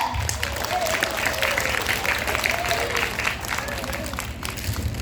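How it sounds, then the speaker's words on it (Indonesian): Audience applause at an Islamic boarding school anniversary gathering, continuous clapping under a low hum, with a voice rising over it. "Tepuk tangan dong untuk ayah dan Bunda."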